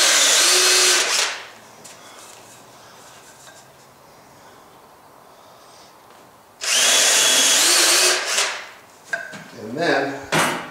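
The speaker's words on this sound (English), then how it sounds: "drill a half an inch deep hole with a half inch drill into the ends of each end of the log." A power drill with a half-inch bit whines loudly in two long bursts separated by a quiet pause, ending with shorter uneven bursts as it bores into the end of an aspen log.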